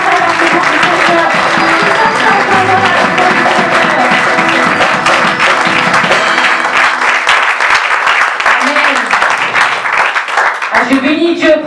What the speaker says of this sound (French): acclame encore pour le roi de roi